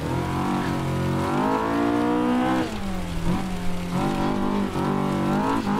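Race car engine in Assetto Corsa, a Honda K20-powered Axfor ProPulsion S2 Junior, revving and accelerating loudly with rising pitch, easing off, then climbing again up the gears.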